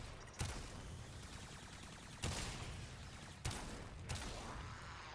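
Gunshots from the Sepulcrum in Warframe, four sharp, punchy shots spaced irregularly over about five seconds, each ringing out with a brief tail over a low ambient hum.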